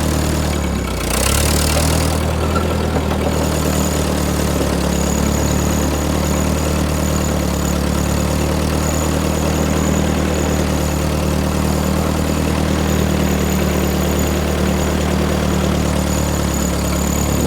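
A Ford 8N tractor engine runs steadily in gear with a continuous low mechanical drone, loud and close, holding an even pitch throughout with no talking over it.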